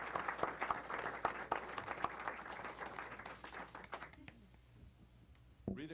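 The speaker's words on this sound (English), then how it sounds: "they deserve another round of applause" Audience applause at a school board of education meeting, a dense round of clapping that thins out and fades near the end, followed by quiet room tone and a brief thump.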